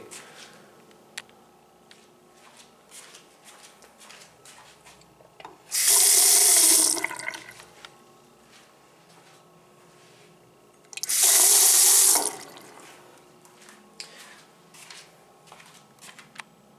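Water gushes from a vintage drinking fountain in two loud bursts of a second or so each, separated by quieter room noise with faint clicks and handling sounds.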